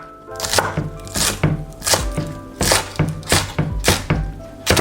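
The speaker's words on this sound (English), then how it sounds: "We're just going to cut the spring onion into slim slices." A knife cuts spring onion into thin slices on a cutting board, a quick, regular series of crisp thunks, each chop close and distinct.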